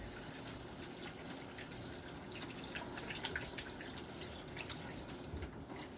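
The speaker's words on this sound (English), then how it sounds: "Let me wash my hands real quick." Hot water runs from a kitchen tap for hand washing during meat preparation, a faint steady trickle and splash into a sink with small drips, heard alone at low level.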